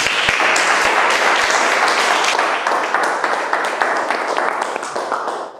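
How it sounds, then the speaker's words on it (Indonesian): A standing audience at a business presentation applauds to welcome a speaker, loud dense clapping sustained throughout and tapering slightly at the end. "kita sambut beliau dengan tepuk tangan"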